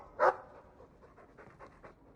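A dog in the Dragon Age II game gives one sharp bark, then pants softly in a quiet stretch of short breaths, close and alone.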